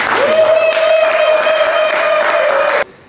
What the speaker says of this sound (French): C'est pour ça que je vous demande d'applaudir Jean Bouchy.